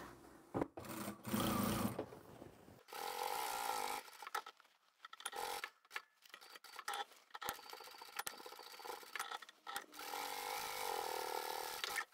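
Home sewing machine stitching webbing down the side of a quilted fabric handbag, running in bursts of fast, close, steady mechanical whirring separated by short pauses.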